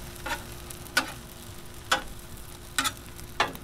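Chicken fried rice sizzles on a Blackstone 22-inch griddle while a spatula chops and scrapes through it in five sharp, evenly spaced strikes over a soft, steady frying hiss.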